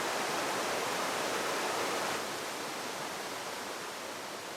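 Steady broadband rush of a clean river flowing, a constant close wash of water with no breaks, loud and even throughout with no voices.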